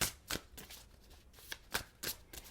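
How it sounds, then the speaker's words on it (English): Tarot cards are shuffled in a quick, soft flurry of riffling and tapping bursts, close but faint, with no speech. "2 more shuffles, 1 more shuffle"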